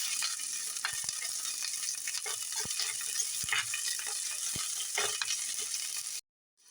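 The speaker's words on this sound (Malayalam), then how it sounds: "ചെറിയൊരു സവാള ചേർത്ത് കൊടുക്കാം. ഇതെല്ലാം നന്നായി ഒന്ന് വഴറ്റിയെടുക്കാം" Ginger, green chillies and onion sautéing in a pan, a steady close sizzle with scattered clicks and scrapes of stirring throughout, cutting off abruptly near the end.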